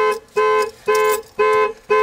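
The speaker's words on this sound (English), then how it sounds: "That's our alarm." A car alarm blares in loud, close, evenly spaced pulses of a bright, buzzy electronic tone, about two per second, with nothing else heard over it.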